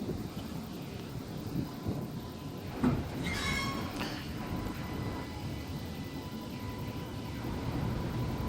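A tram pulling into the University of New South Wales High Street platform, a faint low rolling rumble with a brief squeal partway through, heard amid outdoor wind noise.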